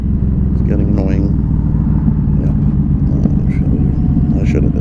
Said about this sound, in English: All the traffic today